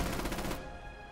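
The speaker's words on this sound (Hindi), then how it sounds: "किल लेने के लिए कितने शॉट मिस करा वो बंदा" Rapid gunfire in Rainbow Six Siege, a fast burst of close, loud shots lasting about half a second, then a ringing tail.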